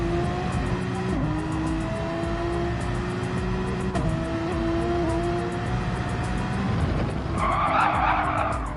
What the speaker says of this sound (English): Porsche looks relatively stable under their braking